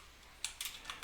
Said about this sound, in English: Probably easiest way is just to go ahead and type in the command